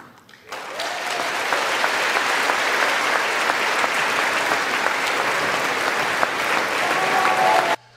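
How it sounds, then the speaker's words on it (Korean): Sustained standing ovation in the US Congress chamber, loud dense applause from a large crowd that rises quickly and holds steady for several seconds before cutting off. "기립박수가 상당히 길어서 줄였습니다."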